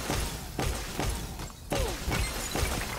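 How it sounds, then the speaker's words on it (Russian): Crystals are smashed and destroyed in the fantasy action game Lost Ark, heard as a series of sharp shattering impacts at roughly half-second intervals over a dense background of game effects, loud and close, with no speech. "Так, уничтожить кристаллы."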